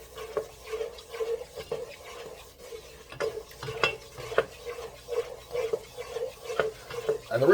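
A spoon stirs the Cajun trinity into a dark roux in a pot, with repeated scraping and clinking strokes against the pot and a faint sizzle beneath, close and irregular.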